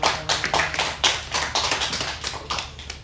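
A church congregation claps together in a steady, rhythmic beat, with sharp, close hand strikes repeating a few times per second throughout, and no talking.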